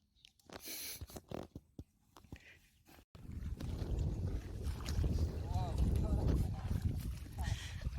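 A small wooden country boat is pushed and pulled by hand through shallow water in a rural Assamese village, with sloshing water and wind buffeting the microphone; voices can be heard briefly at the start.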